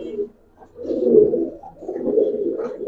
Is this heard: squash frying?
no